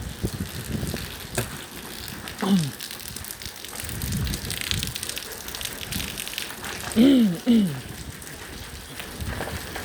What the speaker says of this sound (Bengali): পানি বৃষ্টি হতেছে গাড়ির উপরে